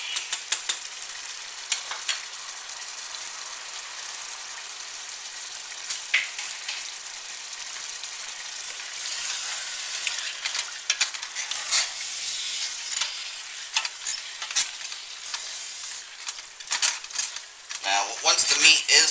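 Ground meat browning for Johnny Marzetti in a skillet, a steady bright sizzle with crackles and occasional scraping stirs, close and constant, growing busier toward the end with no talk over it.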